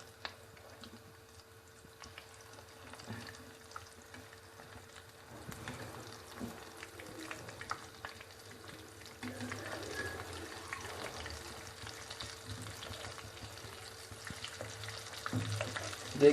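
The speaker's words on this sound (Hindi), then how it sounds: "तो 2 मिनट फ्राई के लिए छोड़ें।" Potato tikki cutlets frying in oil, a quiet steady sizzle with faint crackles and occasional soft bumps, heard alone without talk.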